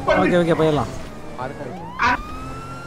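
Police siren from a car in GTA 5 roleplay, rising and wailing briefly between bursts of talk; people speak over and around it.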